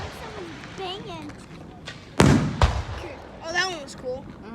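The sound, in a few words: fireworks exploding at Niagara Active Hose Co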